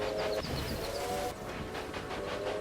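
A Jenny Lind steam locomotive runs in the railway management game Railway Empire, a steady chugging rumble with a repeated short whistle, moderately loud with no talk over it.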